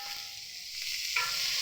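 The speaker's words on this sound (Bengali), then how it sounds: "এইবারে দিয়ে দিচ্ছি কেটে রাখা টমেটো কুচি" Chopped tomatoes drop into spices already fried in hot oil, setting off a steady close sizzle with a brief louder hiss midway, no voices over it.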